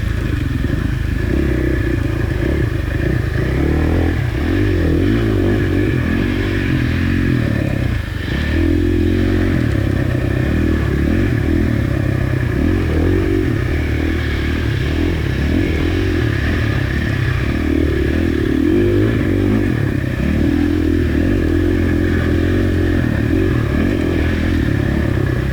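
A 450 dirt bike engine runs loud and close throughout during a hare scramble race, its pitch rising and falling with revs, with a brief dip midway and rattling clatter underneath.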